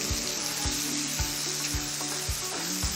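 Bacon frying in a pan while a balsamic reduction cooks nearby, a steady close crackling sizzle punctuated by regular soft scraping strokes about twice a second, with no voices.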